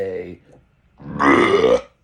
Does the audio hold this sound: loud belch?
yes